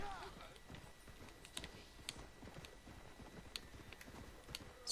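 Horse hooves clip-clop steadily in the video game Red Dead Redemption: Undead Nightmare, a faint, regular run of soft hoofbeats over a quiet game background.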